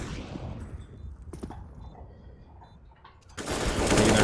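Bursts of gunfire in a Counter-Strike esports match, low crackling shots early on, then a loud dense volley of rapid fire at the end.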